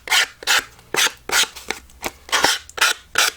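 Dry rasping strokes of a file folder scraped along the edges of a glued paper puzzle made from an old calendar, about eight short bursts in a steady rhythm, close and fairly loud.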